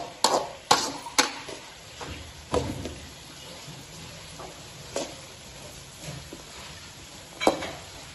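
Vegetables frying in a pan for noodles, with a steady low sizzle under repeated sharp scrapes and clinks of a spoon stirring against the pan at irregular intervals, close by.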